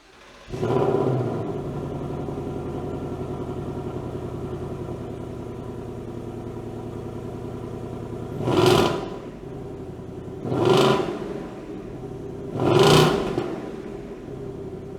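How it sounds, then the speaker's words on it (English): A 2024 Ford Mustang GT V8 engine with stock passive exhaust starts and idles with a deep steady rumble, then revs sharply three times, each rev swelling and falling back to idle. "we're gonna give you some sound clips of what the stock exhaust, the passive exhaust, sounds like"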